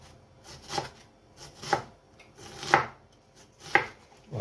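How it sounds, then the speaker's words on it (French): Knife slicing food as finely as possible into tiny pieces for a chicken potato salad, four distinct, evenly spaced cuts on a board, close and fairly quiet, no speech. "on va l'émincer le plus finement possible pour avoir des tout petits morceaux"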